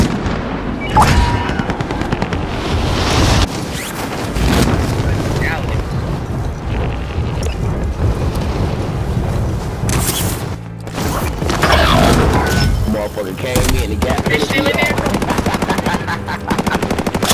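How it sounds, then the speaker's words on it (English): Airstrike blasts and machine-gun fire in Call of Duty: Modern Warfare, a loud chaotic barrage of rattling bursts and deep booms with a brief lull midway, and voices talking over the combat. "Like an airstrike or something."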